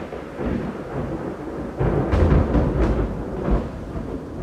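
Thunder from cloud-to-ground lightning in a storm over South Dennis, Massachusetts, a low continuous rumble that swells into a louder crack and roll partway through before easing off, with no voices.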